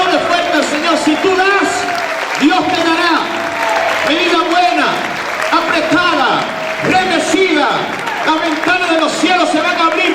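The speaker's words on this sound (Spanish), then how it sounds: "Aplaude fuerte al Señor." A congregation at a church service applauds loudly, and the dense clapping continues steadily throughout while a voice keeps speaking and shouting over it.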